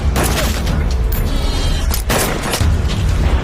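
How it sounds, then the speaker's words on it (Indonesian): Gunfire in an action movie scene: loud, dense booming blasts and a sustained rumble fill the whole stretch, with sharp shot impacts standing out near the start and middle. "Mendengar ada tembakan"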